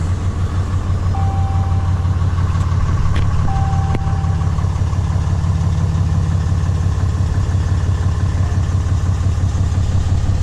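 A Cummins 6.7 diesel pickup engine idles steadily at close range, a low, even rumble with a faint high whine and a couple of brief clicks, alone without talk.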